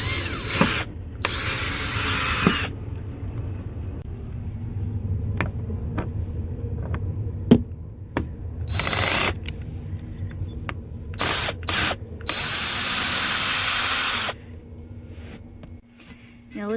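Short bursts of a power drill backing screws out of wooden dashboard trim, several separate whirs spread through, with ratcheting clicks and handling noise in between.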